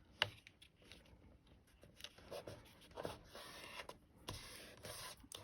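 Paper being folded into a card, with quiet close creasing, rubbing and crinkling strokes in short irregular bursts.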